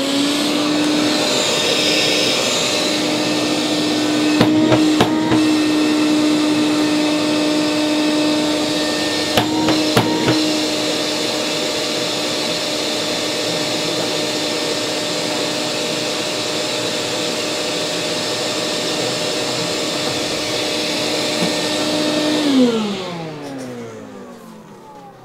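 A DeWalt DCV586MN cordless vacuum cleaner runs with a steady mid-pitched motor whine and airflow hiss, a couple of brief knocks partway through, then the motor winds down as it is switched off near the end.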